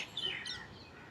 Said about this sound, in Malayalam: കിളികളുടെ ഒച്ചയും